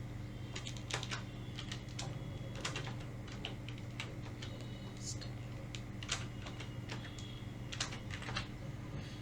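Someone types a project name on a computer keyboard, with quiet irregular clicks and short bursts of keystrokes against a low hum, close and faint, and a voice speaking softly at times.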